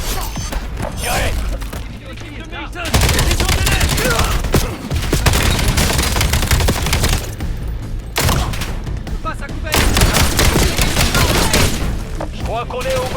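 Call of Duty Black Ops 7 gunfire in a hotel penthouse: loud bursts of rapid shots in several long volleys, separated by short pauses, with voices in the game.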